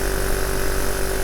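A Chinese copy of a Honda Monkey motorcycle idles with a steady, even engine drone and faint mechanical vibration, close and constant, with no talk.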